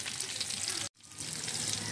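Food frying in a pan during home cooking, a steady loud sizzle broken by a brief silent gap before the crackle resumes.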